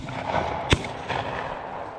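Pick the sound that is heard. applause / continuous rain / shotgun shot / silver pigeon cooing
shotgun shot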